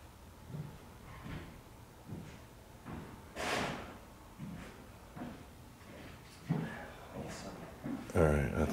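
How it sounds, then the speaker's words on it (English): A door shuts somewhere distant in an old attic, heard as a few faint, muffled thuds in a quiet room with some low talking. "That was him shutting a door over there"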